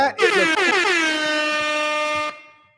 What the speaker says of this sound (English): Ziggy, play the air horns again for Erik McCoy